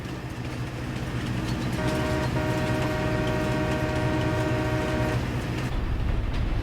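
Train running in Farming Simulator 22, a continuous loud rolling rumble with a long chord-like horn tone sounding over it for several seconds midway, then the engine noise carrying on alone.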